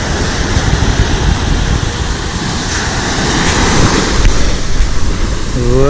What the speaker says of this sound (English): Finally guys, we have reached the Mirissa beach.